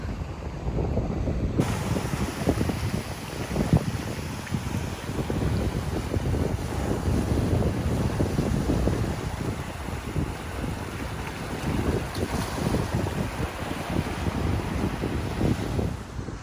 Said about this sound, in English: Hard to hear me because the wind is blowing, and I don't have like a wind muff thingy on my phone